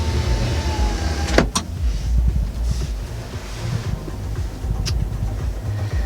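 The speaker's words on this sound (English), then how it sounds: "This is for the optional power rear window." A motor hums steadily as the optional power rear window moves in a 2020 Chevy Silverado 1500 Trail Boss. Two sharp clicks sound over a low rumble of cabin and wind noise.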